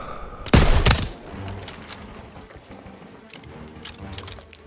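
Machine gun fire in the World War II shooter Call of Duty WWII on PC: a loud, close burst of rapid shots in the first second, followed by quieter scattered gunfire and battle noise.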